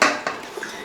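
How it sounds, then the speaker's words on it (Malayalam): Fried chicken drops into biryani gravy in a pot with a clanking metal knock at the start, followed by a second softer clink of utensil against the pot, brief and close. "ഈ വറുത്ത് വെച്ചിരിക്കുന്ന ചിക്കൻ ഇതിൻ്റെ അകത്തിട്ട് ഇടുക"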